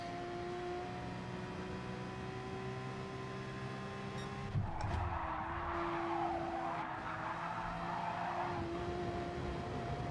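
Race car engine in Gran Turismo Sport drones steadily, with a tire skid and squeal bursting in around the midpoint and running for several seconds before easing off; no talk.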